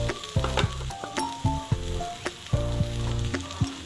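Okra sizzles in a pan as it is stirred into masala, with steady frying crackle and repeated spoon scrapes and clinks against the pan, close and clear with no talking.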